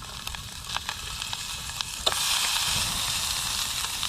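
Breakfast sausages sizzle in a pan at an outdoor wild camp, with a steady close frying hiss that grows louder partway through, along with a few faint ticks and pops.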